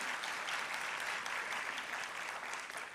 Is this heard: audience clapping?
yes